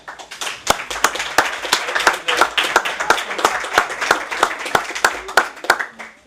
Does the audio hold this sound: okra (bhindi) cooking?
no